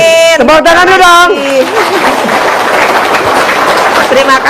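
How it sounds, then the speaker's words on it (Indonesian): Crowd applause from an audience at an Indonesian gathering, a dense, steady wash of clapping that swells after a short tonal, voice-like opening and carries on loudly to the end. "Tepuk tangan dulu dong."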